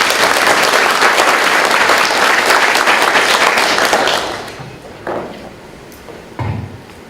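An audience at an international tap water symposium gives a loud round of applause to welcome a company president, dense clapping that fades after about four seconds, followed by a couple of scattered thumps.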